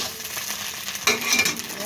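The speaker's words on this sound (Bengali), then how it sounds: "এবার আমি ডিমটা কুচি কুচি করে ভেজে নেব" An egg fries in hot oil in a pan and is broken into small bits, giving a steady, close sizzle that flares louder about halfway through.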